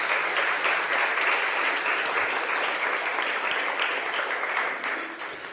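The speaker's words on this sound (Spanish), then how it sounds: "Dale una ofrenda de palmas a Jesús." A church congregation applauds loudly and steadily, dense clapping that tapers off at the end.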